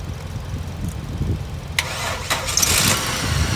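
A Holden VY Commodore is started after an alternator change: a quiet lead-in, then the engine cranks and catches partway through and settles into a running idle, close by.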